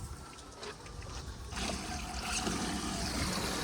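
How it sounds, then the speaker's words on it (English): Lake water pumped out through a boat's live well intake, splashing and trickling steadily, then swelling into a fuller, louder gush partway through. It stays close and continuous, with no talking. "now you can see the water coming out of the intake."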